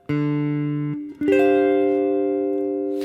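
Two clean guitar chords are played in turn, the second a rich, lush jazz voicing with the fifth replaced by a fourth, ringing out long and clear before being cut off.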